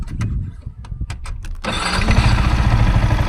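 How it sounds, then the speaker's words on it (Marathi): A few clicks and sputters, then a Yamaha MT-15 motorcycle engine catches and starts in neutral, settling into a loud, steady running rumble. "बाईक स्टार्ट झालेली आहे"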